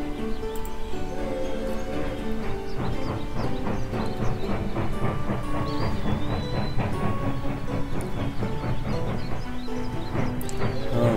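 A train in the 2D video game Tiny Rails rumbles steadily with rhythmic clattering and layered mechanical tones, continuous and fairly loud throughout.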